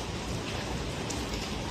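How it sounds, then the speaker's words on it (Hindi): Steady rain falls outside a luxury hotel resort in Goa, an even, close hiss of drops on surfaces with no pauses. "बारिश तो हो ही रही है"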